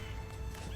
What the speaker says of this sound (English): Really, really good horse.